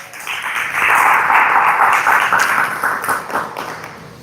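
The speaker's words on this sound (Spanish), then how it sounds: "Denle un aplauso al Señor." A church congregation claps for the Lord, the applause swelling quickly to a loud, dense roar of many hands, holding for a few seconds, then gradually thinning out.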